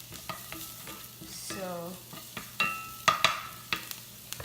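Chopped onion with a little salt sizzles in a pan while being stirred, a soft frying hiss broken by repeated clacks and scrapes of the utensil.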